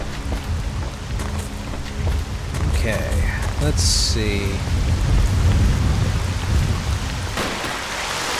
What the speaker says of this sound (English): So we still have that torrential downpour occurring